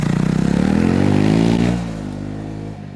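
A Triumph Scrambler 400X motorcycle revs hard and close on a gravel track, a loud buzzing engine note climbing in pitch before easing off into a steadier, quieter drone.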